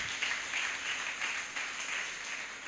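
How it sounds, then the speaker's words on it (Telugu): A church congregation claps hands together during a sermon, a sustained wash of many overlapping claps with slight swells, heard at moderate distance without speech. "చప్పట్లు కొట్టి దేవుని నామాన్ని కనపరుద్దాం."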